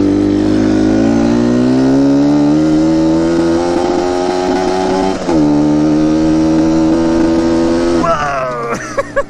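A Yamaha Banshee quad's two-stroke engine is held on a full-throttle run, droning loud and close with pitch climbing slowly through a long pull. A brief dip in the middle precedes a higher-pitched rise, and the engine sputters into a few pops at the end.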